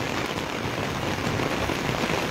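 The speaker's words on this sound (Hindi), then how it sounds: "सुबह से जो है वो काफी जोरदार जो बारिश का दौर है जारी है" Heavy morning rain in Palampur pours steadily and loudly throughout, a dense continuous hiss of drops on surfaces with no breaks or voices.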